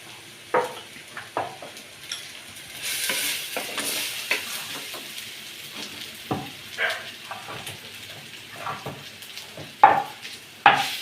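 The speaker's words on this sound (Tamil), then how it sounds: "வெங்காயம் வதங்கிருச்சு இஞ்சி பூண்டு பேஸ்ட்டு சேர்த்துக்கிறேன்" Onion and ginger-garlic paste sizzle softly in a pan while a spoon stirs and scrapes, with scattered clinks of utensil on metal, fairly quiet and close.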